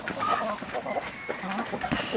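Chickens cluck and murmur close by in a busy farm coop, including a blue-speckled rooster, overlapping soft clucks with farmyard background noise.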